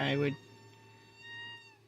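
A house cat meows once, loud and close, in a short tonal call at the start, then faint room tone follows with a low steady hum.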